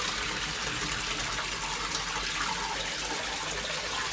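Steady, soft trickle of running water in a koi pond, continuous and close, with no voices.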